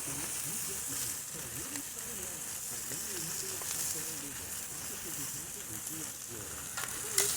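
Bratwursts sizzle on a Blackstone griddle under a bacon press, a steady close crackling hiss that continues throughout with a faint voice murmuring beneath.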